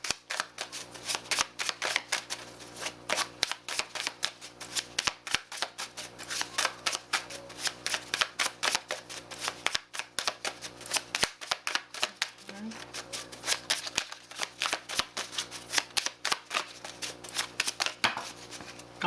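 Inspired by Frida oracle cards shuffled by hand in a steady run of quick, close riffling taps and slaps, continuing throughout with no pause.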